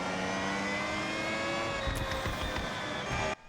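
The engine of a Lexus LFA FE in the racing game Forza Horizon 6, heard from the hood-view camera, holds a steady, bright, high-revving drone with rich harmonics, rising slightly near the end before cutting off abruptly.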